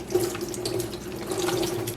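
Drinking water runs from a tap over an aquarium RODI filter cartridge being rinsed, a steady close splashing stream that holds for the whole stretch with no talk.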